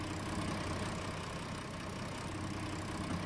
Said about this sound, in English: And we'll turn the engine off and out.